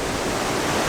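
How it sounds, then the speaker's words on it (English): Loud, steady rush of water pouring past an abandoned mill, a dense close roar of continuous noise with no pauses or voices. "because of the water rushing by right here"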